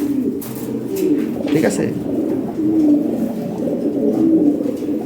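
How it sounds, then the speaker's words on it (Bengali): Toy Lahori pigeons of European origin coo in a cage, low throaty rolling calls repeating close by, with a person speaking briefly over them. "এখানে আরেকটা পেয়ার আছে toy Lahori, European original European toy Lahori 2020 ring ব্লাডের কবুতর"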